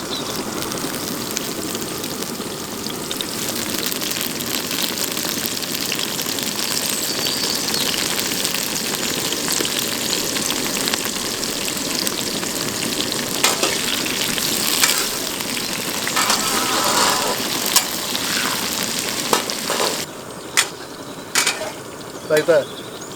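Curry leaves crackle and sizzle loudly in hot oil for Pallipalayam chicken fry, a dense continuous frying hiss with scattered pops and scraping, easing off near the end as a few sharp clicks stand out.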